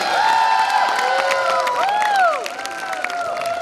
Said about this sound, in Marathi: यासाठी जोरदार टाळ्या वाजवायच्या